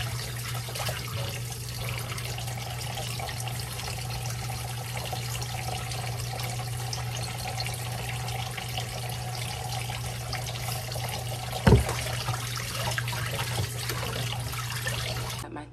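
Tap water runs steadily into a sink while chicken is rinsed in salt water, a continuous close hiss and trickle with a low background hum and one brief clunk partway through, no talking.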